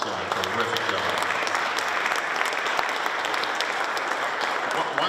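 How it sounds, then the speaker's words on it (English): A legislative audience gives a round of applause for the Secretary of Transportation, a full, even burst of clapping from many people that holds steady throughout. "I think we all really should give him a round of applause"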